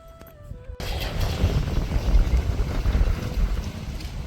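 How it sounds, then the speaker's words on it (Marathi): Stormy gusting wind, a whirlwind along the Narmada river pilgrimage route near Narsinghpur, suddenly roars up after a brief quiet moment and keeps buffeting close to the microphone as a loud, steady rumble. "वादळी वारा,"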